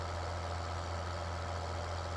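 A tractor engine idles in Farming Simulator 2013, a steady low hum with a constant drone, unchanging throughout and with no voices over it.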